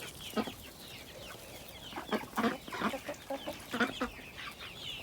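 Chickens cluck in a series of short, uneven bursts near a chicken coop on a farm where laying hens are kept, moderately close with steady outdoor background noise and no talking.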